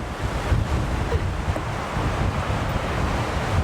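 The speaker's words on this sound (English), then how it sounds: "Now if there is any wind to test this, today it is." Wind blowing outdoors around a person in town, a steady low buffeting rumble across the microphone with gusty swells, no talking.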